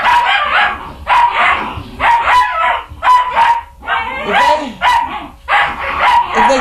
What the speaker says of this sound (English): it's just barking practice. It is just barking